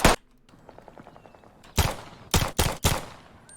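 Crisp, loud gunshots from the World War II shooter Post Scriptum: one sharp crack at the start, then after a quieter stretch four heavy bangs in quick succession, punchy and close.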